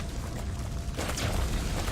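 Explosions in the video game Fade to Silence form a dense, continuous low rumble of booms that swells louder in the second half, heard without any talk.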